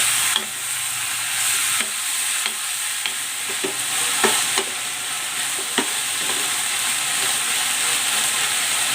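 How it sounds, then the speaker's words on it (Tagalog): Pork sautés in a pan with onion, making a continuous loud sizzle and hiss, with occasional clicks and scrapes of stirring throughout. "Igigisa ko na itong pork."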